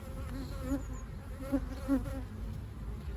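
A dense, steady drone of many Carniolan honeybees buzzing close by at the hive, continuous and unbroken, with a few slightly louder swells and no voices.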